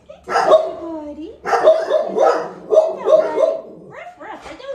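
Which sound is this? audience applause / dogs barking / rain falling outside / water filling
dogs barking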